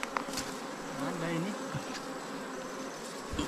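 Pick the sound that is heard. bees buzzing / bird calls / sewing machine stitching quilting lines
bees buzzing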